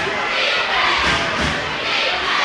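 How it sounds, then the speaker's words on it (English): The visiting Zwolle crowd chants for defense at a high school Class B state quarterfinal basketball game at Madison Prep, a loud, continuous roar with rhythmic thumping, likely stomping or clapping, running through it. "The crowd calling for defense."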